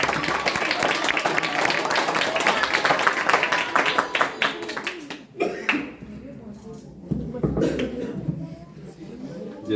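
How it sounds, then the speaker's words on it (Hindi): A gathering of students clapping for Pastor Tariq Gill, bursts of hand claps that thin out and break up midway, followed by scattered taps, murmurs and talk. "पास्टर तारिक के लिए जोरदार तालियां।"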